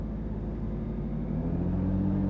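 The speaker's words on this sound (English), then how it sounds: "Even though they're on firm ground, they're just wheel spinning, sliding." A 4x4 stuck in a muddy bog spins its tyres on firm ground, a low, steady engine rumble droning with a slight rise in revs, fairly quiet and continuous with no talking.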